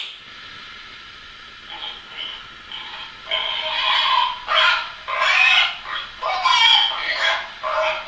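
A person imitates pig sounds with a voice, a run of loud, nasal grunting and squealing bursts that grow stronger after a quieter opening.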